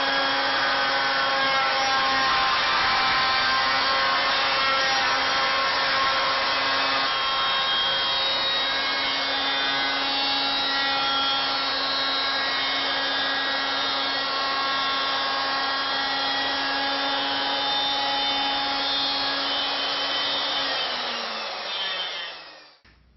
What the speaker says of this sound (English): we'll make the other cut